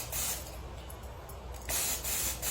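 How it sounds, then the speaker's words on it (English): Spray gun misting RC liquid mask onto a model car body, a steady airy hiss that runs continuously, softens briefly, then returns louder in two close bursts. "So, spray it up."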